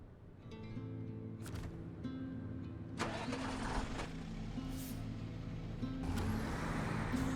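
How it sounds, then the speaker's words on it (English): A video game truck engine in SnowRunner rumbles steadily with a low, revving drone, rising slightly in intensity with occasional mechanical clunks. "It's got a nice engine noise."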